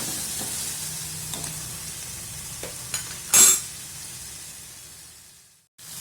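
Kadappa, a South Indian curry, cooks in a pan with a steady soft sizzle, broken by a few scrapes of stirring and one louder clatter before the sound cuts off.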